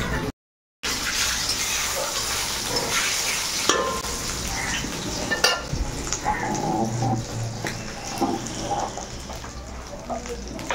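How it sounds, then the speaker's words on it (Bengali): Spices tempering in hot oil for khichuri, a loud bright crackling sizzle with stirring clatters and scrapes, close and sustained, with a brief dropout near the start. "মা খিচুড়ি ফোড়ন দেবে"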